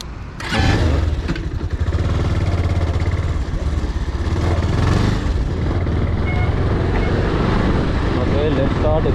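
Motorcycle engine running and riding along steadily, loud and close throughout, with people talking over it.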